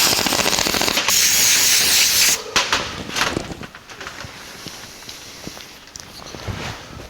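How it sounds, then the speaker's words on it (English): A short burst of brake cleaner sprays onto steering spindle bolts of a 1949 Chevrolet gasser, a loud close hiss lasting about two seconds, followed by quieter handling sounds and faint shop noise. "We'll clean the bolts with some brake clean."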